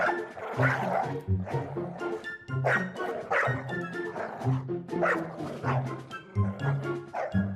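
Several village dogs bark and yip close by in quick, overlapping bursts that keep repeating loudly, with no one talking.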